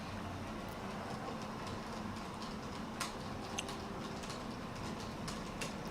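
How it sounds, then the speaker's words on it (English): Model trains run on a layout as a steady rolling rumble, with faint ticking and clicking rail-joint sounds scattered throughout at a constant low level. "nothing like tea and running trains in the background"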